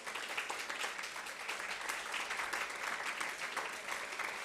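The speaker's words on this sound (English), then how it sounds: "Please give them the last round of applause." An audience at a conference session on the COP26 nature legacy applauds steadily throughout, a dense, even round of clapping heard at a moderate distance.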